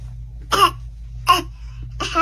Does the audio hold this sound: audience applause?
no